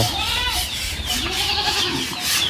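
Goats on a farm with a shed give several loud, wavering bleats close by, one after another over a busy background.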